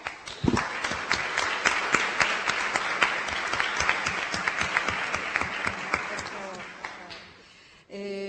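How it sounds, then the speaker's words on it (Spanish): An audience at a university lecture class applauds with clearly separated, sharp claps forming a lively patter that gradually thins out before a short, different sound cuts in at the very end. "Les brindamos un fuerte aplauso."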